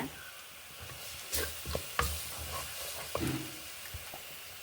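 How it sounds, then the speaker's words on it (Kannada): Spices and chili powder frying in oil for potato kurma make a steady low sizzle, with a few louder stirring scrapes and taps from a spoon. Close and fairly quiet, with no talk. "ಒಂಚೂರು ಆಯಿಲೆಲ್ಲ ಹೊರಗೆ ಬರುವಷ್ಟು ಒಂಚೂರು ಫ್ರೈ ಮಾಡ್ಕೊಂಬ"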